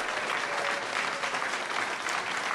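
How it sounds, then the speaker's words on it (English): An audience at a ward election debate applauds steadily, a dense wash of clapping hands that stays loud and even from start to finish. "let's give all the candidates a round of applause"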